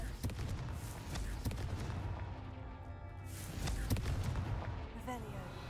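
Blasting spell explosions from Hogwarts Legacy, several booming impacts and crackling bursts spread over the span, mixed with ongoing game effects and some speech.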